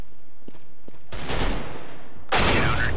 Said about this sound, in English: Look, he's shooting me through the wall.